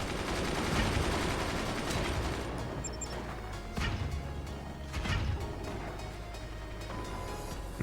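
Mortar fire and explosions in the strategy game Forts, a dense run of loud booming impacts and crackling bursts with swells around the middle, continuous with no talk.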